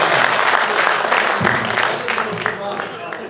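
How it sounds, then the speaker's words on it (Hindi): An audience at a Hindi kavi sammelan poetry event breaks into loud, dense applause that fills the space and slowly thins toward the end, while a voice speaks faintly beneath it. "जोरदार तालियों से आगे से पीछे तक जितने लोग बैठे"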